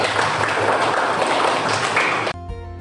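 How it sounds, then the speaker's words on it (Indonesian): Classroom audience at a high school session clapping together, a dense, loud burst lasting a little over two seconds before cutting off abruptly into a quieter tone. "tepuk tangan untuk kita semua"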